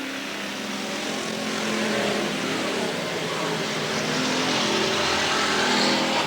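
Race cars circle Willamette Speedway in 1989, a dense, continuous wall of engine roar that swells slightly as the pack comes by, with a race announcer's voice faintly mixed in beneath.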